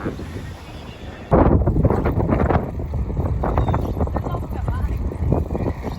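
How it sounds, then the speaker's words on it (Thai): Strong gusting wind buffets the microphone while three people ride bicycles outdoors, a loud continuous roar that surges abruptly partway through and keeps rumbling steadily to the end, with no voices heard. "เราสามคนปั่นจักรยานแบบสู้ตายมาก ลมแรงมาก"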